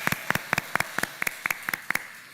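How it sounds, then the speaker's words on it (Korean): A church congregation claps together in a quick, regular rhythm of paired sharp claps, about eight beats in a little over two seconds, with nothing else heard. "한번 우리 일어나서 박수해 주시면 고맙겠습니다"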